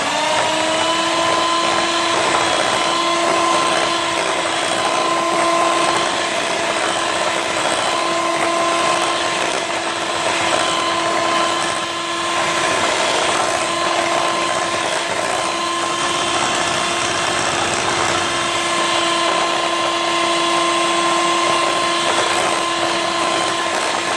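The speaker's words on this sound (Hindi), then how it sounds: "फिर थोड़ी देर बीटर चलाएंगे, फिर दूसरा अंडा ऐड करेंगे।" An electric hand beater whirs as it mixes eggs into butter for a cake rusk batter. The motor gives a steady, loud, close whine that barely changes for the whole stretch.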